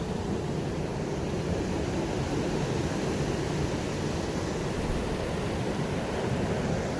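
Sea waves wash continuously against a shore during rod fishing, a dense, unbroken roar of surf and wind that stays loud and even throughout, with no voices.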